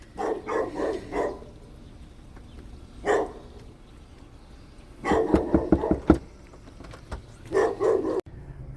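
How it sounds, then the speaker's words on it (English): A dog barks in the background during a food delivery stop, several short bursts at a distance with quiet gaps between them and no talking. "Sorry about the dog that was barking in the background there."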